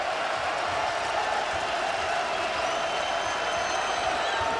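A basketball arena crowd of more than 16,000 at the Hartford Civic Center roars steadily during a UConn versus Indiana college game, a continuous broad wash of cheering and noise with a few whistles rising above it.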